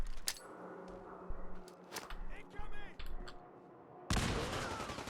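Gunfire from a modded gun in Fallout 4: several sharp, distinct shots in quick succession, then a loud burst near the end, in a quiet game mix.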